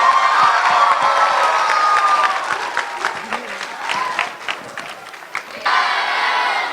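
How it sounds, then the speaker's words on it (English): Student assembly audience clapping with some cheers and shouts, loud and dense at first, then thinning into scattered claps and voices before swelling again near the end. "Give them a big round of applause."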